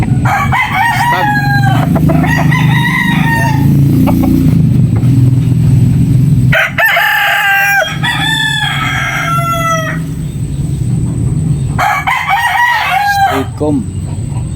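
A young gamecock stag crows three times close by, each crow loud and drawn out, with a low engine-like rumble underneath.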